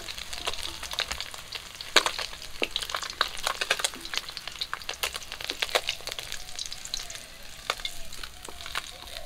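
Lata fish frying in hot oil, giving a steady crackling sizzle with dense sharp pops and spits throughout. No voices are heard.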